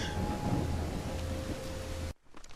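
Heavy rain pours in the video game Call of the Elder Gods, a loud dense rushing wash with a low rumble underneath, steady for about two seconds before cutting off abruptly.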